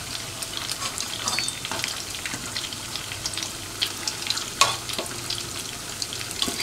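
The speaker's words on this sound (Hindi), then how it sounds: "ये ध्यान रखें, इसे फ्राई करते हुए हमारी आंच तेज पर होनी चाहिए।" Cheese corn rolls deep frying in hot oil over high heat, giving a constant bubbling sizzle with occasional sharper pops and utensil taps, close up and moderately loud, with no speech.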